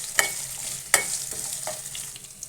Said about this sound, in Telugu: అల్లం ఫ్రై చేసుకోవాలి. అల్లం అనేది పచ్చివాసన పోయినంత వరకు కూడా ఫ్రై చేసుకోవాలండి.